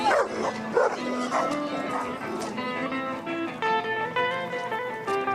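Several dogs bark and yip loudly and continuously, close by on a street in central Kyiv, with whiny high-pitched yelps mixed into the excited barking.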